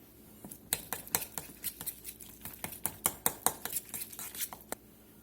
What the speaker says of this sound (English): Get this all mixed up.